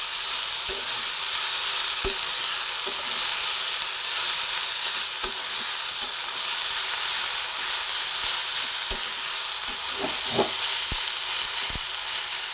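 Drumstick (moringa) flowers frying in a pan, a loud, steady sizzle and hiss throughout, with occasional soft knocks of a utensil against the pan.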